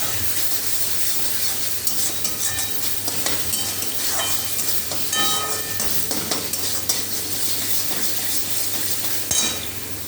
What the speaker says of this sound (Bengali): দেখো প্রায় মশলাটা কষানো হয়ে গেছে।